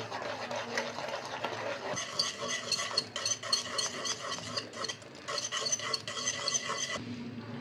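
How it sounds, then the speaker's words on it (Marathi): Cornmeal flour being stirred fast in a pan while making upma, a continuous scraping, rasping rub of spoon against metal, loud and close, with brief changes in rhythm and no talking. "एकदम फास्ट आहे ना हलवायचं आहे"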